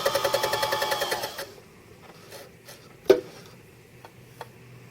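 A felting machine runs steadily for a little over a second with rapid, even needle punches, then stops. A few isolated clicks and a sharp knock follow in a quiet room.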